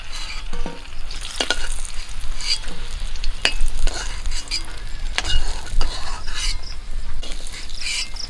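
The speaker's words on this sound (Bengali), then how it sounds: "পটলগুলো আমি এরকম করে ভেজে নিয়েছি" Pointed gourd sizzles steadily in hot oil while a utensil repeatedly scrapes and stirs the pan, close and fairly loud, with no talking.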